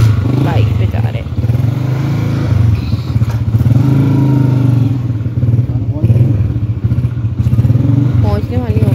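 Motorcycle ridden on the way to the Etimad visa office in Saudi Arabia, its steady engine drone running throughout under continuous talk.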